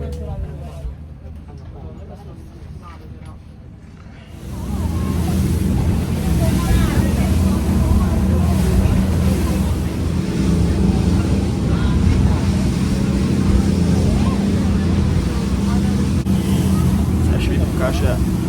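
Boat ride on the sea near Malé in the Maldives: a steady, loud roar of engine and wind rises after a few seconds of quieter background and continues throughout.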